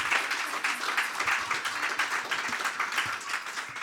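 An audience at a spiritual talk and music event applauds, many hands clapping in a dense, steady burst that carries on throughout at moderate level.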